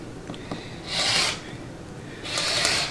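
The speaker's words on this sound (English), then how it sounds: "I like to slide my ruler down, especially when I'm trimming my quilts." A non-stick quilting ruler slides across a quilt on a long-arm frame during trimming, making two smooth, close rasping swishes separated by a short pause, with no talking.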